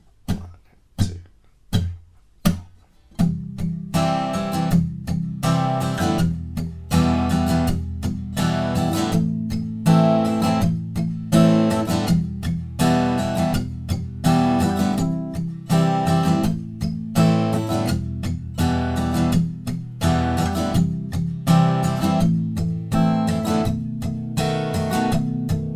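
Acoustic guitar playing the verse of a song, a few single strums ringing out before settling into steady, continuous strummed chords, close and clear with no voice.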